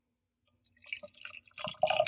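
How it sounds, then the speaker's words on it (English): Beer from a can of Ellison Brewery and Spirits Haz'N'Stein pours into a glass, starting as faint drips and building into a close, fizzy, glugging stream. "We're going to go ahead and pour this."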